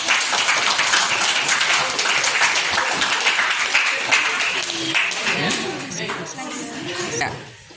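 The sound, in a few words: students applauding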